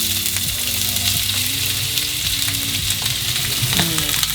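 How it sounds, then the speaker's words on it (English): Food sizzles loudly and steadily in a frying pan while cooking Indian food, a continuous bright crackle with occasional stirring scrapes and faint clinks underneath. "Sizzle."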